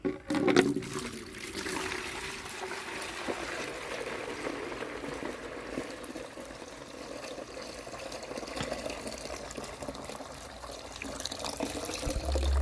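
Strained liquid fertilizer made from seemakonna (gliricidia) pours and trickles steadily into a bucket for several seconds, a continuous close splashing gurgle with no voices.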